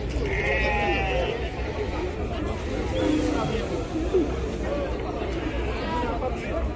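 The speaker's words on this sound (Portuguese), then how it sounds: "As cabras, cabra bode" Goats and sheep bleating at a livestock fair in Cachoeirinha, Pernambuco, scattered cries rising over a steady crowd hubbub and chatter.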